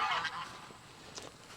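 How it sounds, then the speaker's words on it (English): Geese honk repeatedly at a cattle farm where herds are being combined, a cluster of loud calls at the start followed by a couple of fainter honks, with no talking over them. "view of stupid geese"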